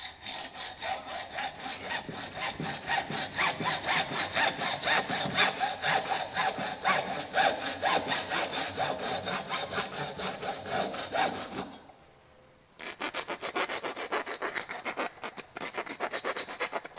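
A hand saw cuts through 3/4-inch schedule 40 PVC electrical conduit in fast, steady back-and-forth strokes, close and loud, pausing briefly before a final run of quicker strokes.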